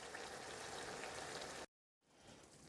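King prawns in their shells simmering in a pot, a steady dense bubbling hiss that cuts out abruptly for a moment, then resumes a little quieter.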